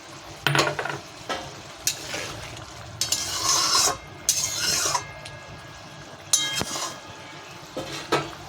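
Boiled mango goes into a pan of potatoes and gets stirred. A spoon knocks and scrapes against the metal in scattered clanks and brief rustling bursts over a faint sizzle.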